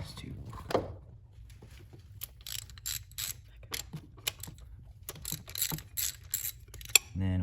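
Sparse ratcheting clicks and metallic taps come from a wrench loosening cam cap nuts on a VW TDI ALH engine during a timing belt job, quiet and close, with a person speaking between bursts.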